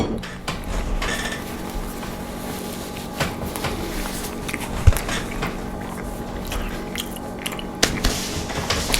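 Close, loud chewing and biting of food, with crunchy mouth sounds repeating irregularly and faint clinks of cutlery or dishes in between.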